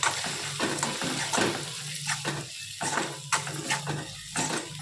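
Chilli chutney with salt is stirred in a hot pan, giving a steady close sizzle broken by repeated spoon scrapes at an even rhythm, with no talk over it.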